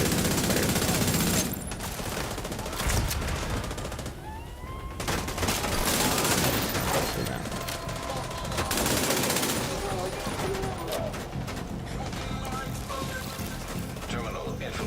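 Gunfire in The Division 2 video game, dense rapid bursts and heavy blasts with mechanical clanks, loud and sustained with brief lulls, under occasional game voice.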